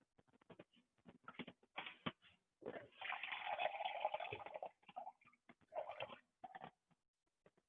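Water runs from a tap into a measuring cup for bread dough in a kitchen, in short stop-start bursts with a couple of longer steady gushes, quiet and close with no talk.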